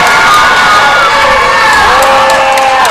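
A women's college basketball crowd on its feet cheering loudly, a dense sustained roar with whoops and shouts filling the gym.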